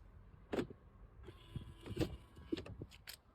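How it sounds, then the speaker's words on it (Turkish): A Togg electric car door unlocking by keyless entry: a few faint mechanical clicks and thumps, then a soft, brief motorized whir of the latch mechanism, quiet and close. "Anahtarsız giriş. Kapı koluna elimizi katıyoruz."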